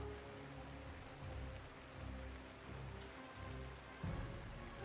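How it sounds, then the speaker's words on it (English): Steady rain pours in the World War II strategy game Panzer Corps 2, a continuous soft hiss of drops on surfaces with low rumbling underneath, quiet and unbroken. "So it's raining from the start, okay."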